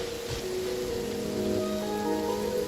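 Heavy rain falls in the game Genshin Impact, a steady wide hiss of drops that continues under sustained musical tones, with no voices.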